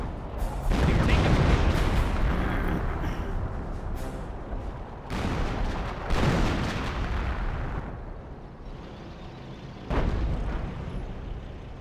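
Heavy artillery fire in Company of Heroes, a series of loud booming blasts with long rumbling tails, four or five big impacts spaced a second or two apart.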